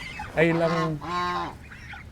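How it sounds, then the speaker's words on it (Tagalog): Young goslings on a farm give two close, loud honking calls, each drawn out and nasal, with a brief, quieter voice speaking at the end. "sisiw ng gansa"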